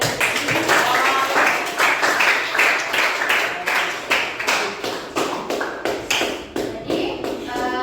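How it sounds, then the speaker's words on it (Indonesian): Students in a classroom give a round of clapping, a dense patter of many hands that settles into quick rhythmic bursts, close and fairly loud with faint voices underneath. "Tepuk tangan, beri aplaus untuk kita hari ini."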